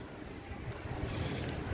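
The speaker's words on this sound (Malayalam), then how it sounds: "ഓ നല്ല തണുത്ത കാറ്റ്, ഭയങ്കര കാറ്റാട്ടോ" Strong cold wind gusting at the Mahe waterfront walkway, where a backwater meets the sea beside moored fishing boats, a steady close rush of wind noise buffeting the microphone with low rumbling surges and no voices.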